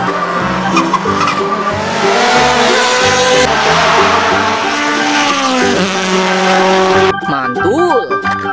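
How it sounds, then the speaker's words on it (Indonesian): A toy race car plays loud electronic racing effects: revving engine tones and squealing tires run continuously, then give way to brief rising and falling siren-like sweeps near the end. "Ini mainan mobil balap."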